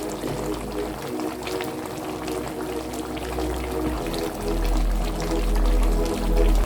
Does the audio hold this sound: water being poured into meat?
yes